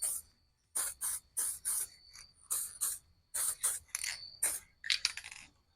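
Short bursts of flat black spray paint hiss from an aerosol can onto a Kyosho Scorpion RC car body outdoors, about eight to ten close, distinct sprays in an irregular rhythm with brief pauses between them.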